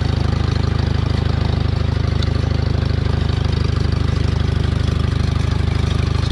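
A Farmall M tractor idles with its muffler rotted through at the bottom, a loud, steady low chugging with a rapid even exhaust pulse and a rough, rattly edge, running alone without talk.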